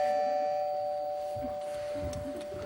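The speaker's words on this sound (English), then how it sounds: "I'll bring the others in, starting with Archie, with a doorbell noise" A doorbell chimes on a comedy improv stage show, a clear sustained ding-dong tone that fades slowly while a studio audience murmurs and laughs underneath.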